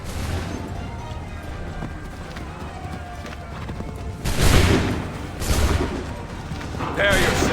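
Musket volleys in Assassin's Creed 3, starting with running feet and hooves under a busy battlefield, then two loud crackling volleys roughly a second apart, followed by a third near the end, with shouted orders around them.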